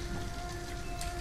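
Rain in the video game Detroit: Become Human, a steady, dense patter of drops on surfaces. A faint held tone sits underneath, with no talk in this brief stretch.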